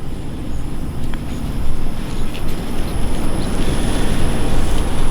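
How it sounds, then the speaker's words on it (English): An Infinity air conditioner condensing unit runs in stage 1 with its fan spinning and compressor going, a steady, fairly loud broadband whir that holds close and continuous throughout. "this fan is spinning, this compressor is running"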